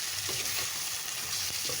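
Meat with spices sizzles steadily in a hot pan, a close crackling hiss with soft scraping and stirring knocks underneath.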